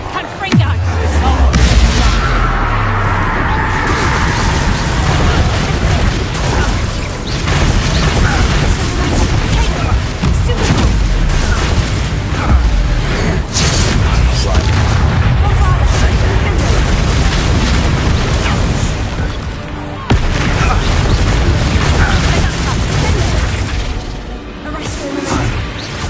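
Repeated blasting spell explosions in the video game Hogwarts Legacy, loud booms and crashes going off through a dense, continuous stretch of combat noise, with a voice speaking over parts of it.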